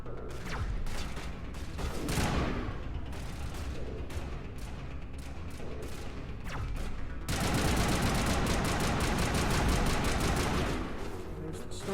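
Gunfire crackles in the video game Mass Effect during a fight with snipers, as a rapid series of sharp shots, dense and loud, grows heavier toward the end.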